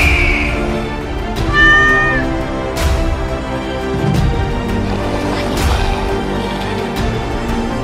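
A cartoon cat meows in a short series of rising, harmonic calls near the start of a board-game adventure cartoon's busy soundtrack, with music and effects continuing underneath.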